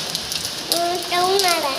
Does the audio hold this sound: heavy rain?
yes